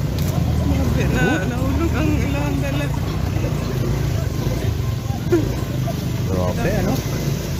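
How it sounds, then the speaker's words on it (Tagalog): A loud motorcycle engine drones steadily on a rough, difficult road, a constant low rumble running beneath excited nearby voices talking throughout. "Ang lakas ng motor guys, no?"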